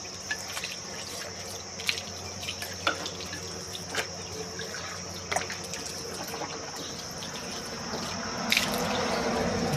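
Water running and trickling in a kitchen sink that had been clogged, a steady wash of flow with small splashes and drips, growing louder near the end, with no voices.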